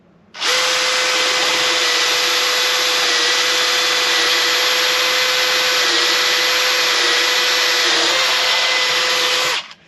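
A Craftsman V20 gen 2 brushless hammer drill runs in speed 1, its high-torque setting, on a 4 amp-hour battery, giving a loud, steady whine that holds for about nine seconds before cutting off, with no talking.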